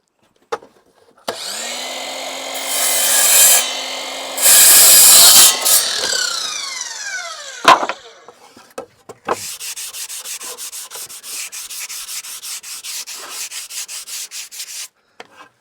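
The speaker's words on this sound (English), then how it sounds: "That needs to be sanded and cleaned up again." A piece of wood is sanded in an off-grid African workshop, with loud rasping strokes early on, then a rapid, steady buzzing sanding passage that runs for several seconds before stopping.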